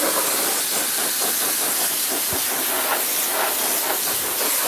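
Spray adhesive shoots onto the carpet of an Infiniti G37 package tray before a black suede install, a loud, close, unbroken hiss lasting throughout.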